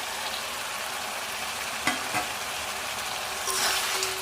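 A fish head frying in oil in a pan gives a steady close sizzle, with a couple of sharp crackles partway through and a louder burst of spitting near the end.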